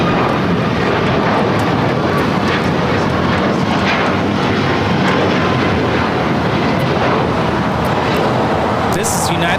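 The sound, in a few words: United Airlines Boeing 737 MAX 8 taking off at LAX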